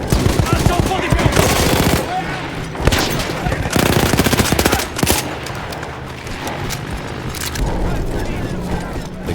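Heavy machine gun fire from a mounted gun in a Battlefield 1 battle against Austro-Hungarian troops, loud rapid bursts repeating in long strings with short pauses, while soldiers shout in Italian underneath.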